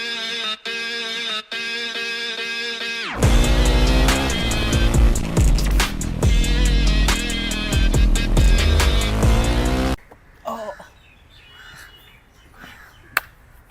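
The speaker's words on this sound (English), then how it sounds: "This is a 2019 KTM RC390 and it's been equipped with a Powertronic, a Fuel-X, a BMC air filter and a Krapovich exhaust" A 2019 KTM RC390 motorcycle fitted with a Krapovich exhaust, Powertronic, Fuel-X and BMC air filter, revs and rides loudly, with a few short blips, then a sustained roaring run, then quieter distant engine and road noise.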